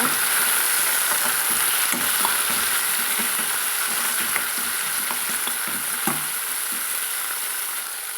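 Chopped tomatoes sauté with onions in a pan for a drumstick white kurma, with a loud, dense sizzle running the whole time and a spoon stirring through it in scattered scrapes. No voice is heard.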